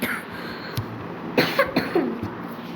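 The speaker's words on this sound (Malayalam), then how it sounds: "ചുമച്ചാണ് ഗൈസ്." A few short coughs near the microphone, in quick succession after a quieter stretch of background noise.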